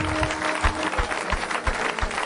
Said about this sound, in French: on acclame le Seigneur de gloire